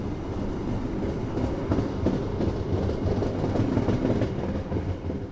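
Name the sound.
Argo Merbabu passenger train running on the rails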